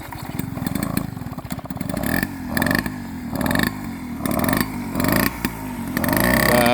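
A Peugeot 103 moped push-started, its small two-stroke engine catching and buzzing in rising and falling revving bursts, close and fairly loud, with no talk over it.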